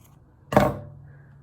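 One brief, close snip of scissors trims a yarn pom-pom, then quickly fades into a quiet room.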